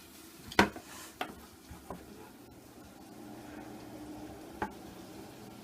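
Onions fry in a pan with a low, steady sizzle, broken by a few sharp clinks of a utensil against the cookware.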